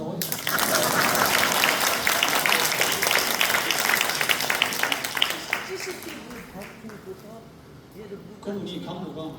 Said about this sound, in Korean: 박수가 나와요.